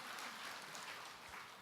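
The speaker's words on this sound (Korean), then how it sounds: "박수로 맞으세요" Applause from an audience at a Buddhist monk's televised question-and-answer Dharma talk, a dense steady patter of many hands, fairly faint and brief, with no talk over it.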